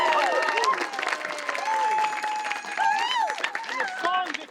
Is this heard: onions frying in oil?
no